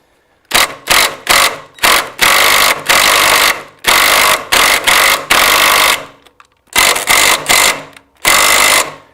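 Ryobi power tool used on a 1957 BMW Isetta whirs loudly in short repeated bursts, starting and stopping about a dozen times with brief pauses, close by and alone.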